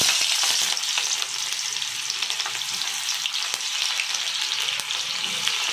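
Chopped onion dropped into hot oil for a sweet and sour chicken curry sizzles in a loud, steady, dense crackle that holds evenly throughout, with no voices.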